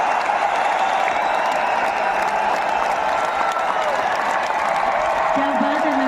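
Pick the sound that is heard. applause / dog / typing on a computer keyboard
applause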